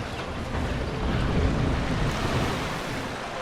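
Waterfall water in the Planet Coaster video game pours as a continuous, broad rushing wash, swelling slightly in the middle before easing back, with no voices.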